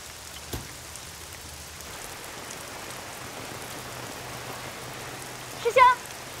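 Heavy rain falling outside, a steady even wash of drops heard from a moderate distance, continuous and fairly soft, with a sharp knock near the start and a brief bird-like chirp near the end.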